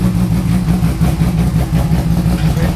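A 1000 hp turbocharged Porsche race car idles close by, a loud, steady low rumble with a slightly lumpy, pulsing rhythm and no voices.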